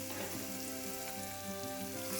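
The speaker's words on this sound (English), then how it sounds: "Stirring the onions, you can cook them for 3 to 4 minutes" Onions fry in hot oil in a 12-inch pan, a soft, steady sizzle with a few light stirring scrapes, close and unbroken.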